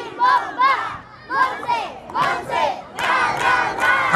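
A party crowd at a fifteenth-birthday celebration shouts a rhythmic cheer chant in loud bursts, voices rising together in repeated group yells, close and energetic.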